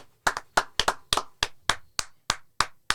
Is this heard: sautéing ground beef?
no